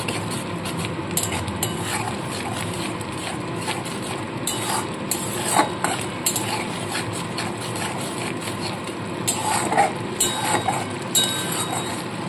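Spices with tomato fry in a pan while a spoon stirs them, giving continuous soft scraping and light clinks over a low sizzling hiss, close up and without voices.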